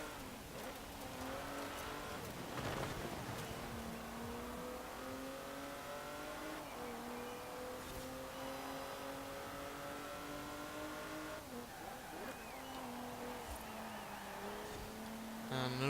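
An Italian all-wheel-drive V6 SUV is driven hard through a corner with oversteer. The engine roars loud and close, climbing through the revs with several audible gear changes and a faint squeal of tyres.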